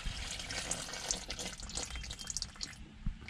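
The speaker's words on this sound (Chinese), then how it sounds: "再接一点凉水就可以了。" A tap runs into a basin inside a camper van, filling it for washing the face: a steady close splashing and trickle of water.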